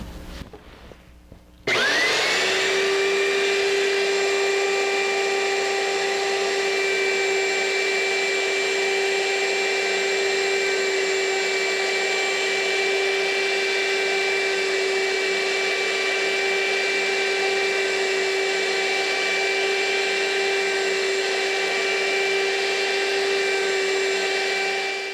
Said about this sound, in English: In order to route all of the mortises for the loose tenon joinery, I'm going to use my horizontal mortiser.